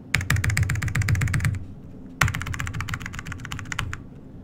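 A deck of playing cards riffle-shuffled up close in two quick bursts of rapid, crisp flutter-clicks, each lasting about a second and a half with a short pause between them.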